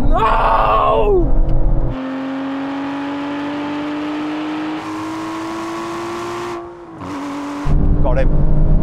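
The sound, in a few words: Aston Martin car revving in a drag race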